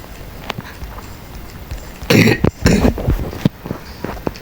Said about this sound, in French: Je tousse de ouf.